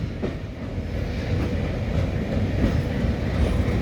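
A Chitrakoot Express train pulls out of Katni Junction, its low, steady rolling rumble holding without a break across the whole clip with faint wheel clatter, fairly close and continuous, and no voices.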